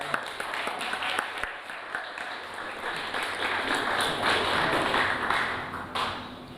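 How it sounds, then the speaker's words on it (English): Audience applause rings out at a student union election results night as elected candidate Sean Nolan is announced, a steady wash of clapping holding for several seconds with no voices over it. "Round of applause for Sean"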